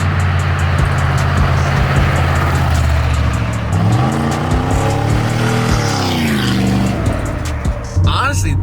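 A pickup truck with about 300,000 miles on it runs loudly up close, its engine note rising and falling through several revs over a steady idle rumble.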